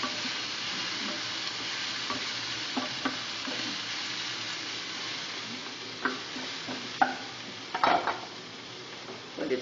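Onions softening in a pan sizzle at a low, even level, with occasional utensil clinks and scrapes against the pan growing more frequent toward the end.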